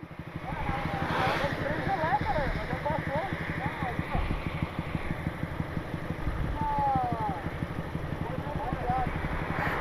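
A modified motorcycle engine idles close by with a steady, even rumble that runs the whole time, while a person talks over it.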